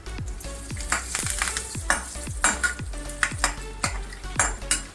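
Turmeric and curry leaves crackle and sizzle in hot tempering oil for puliyogare tamarind rice, with a steady frying hiss broken by regular sharp clinks of a ladle stirring the pan.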